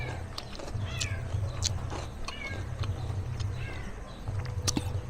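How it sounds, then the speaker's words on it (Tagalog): A kitten meows several times in short, thin rising cries, fairly faint, over a low rhythmic background rumble. "may naririnig ko, may pusa, may nakapasok na kuting"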